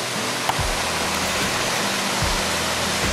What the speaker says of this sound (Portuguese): Pessoal, essa aqui é a Cachoeira da Sereia.